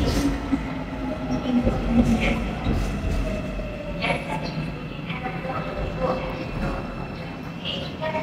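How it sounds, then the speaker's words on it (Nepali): A Seoul metro train pulls into the station with a steady rumble and rising mechanical hum, faint chimes and clatter on top, while people talk nearby. "ट्रेन आयो,"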